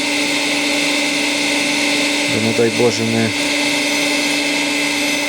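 A grinding machine works a large Willys cylinder, giving a steady, loud mechanical hum with whining overtones, while a voice speaks briefly over it midway.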